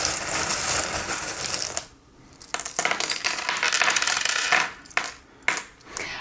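Small metal charms tossed and clattering down for a divination reading, a close jingling scatter with metallic ticks and rattles that settles into brief pauses and then a few more light clinks.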